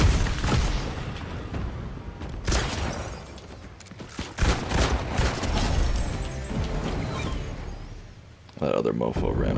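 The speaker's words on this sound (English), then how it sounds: "A lot of fire going on here, folks." Bursts of gunfire and booming blasts from the video game Fortnite roll on through a busy match, dense and fairly loud, with a voice talking over much of the shooting.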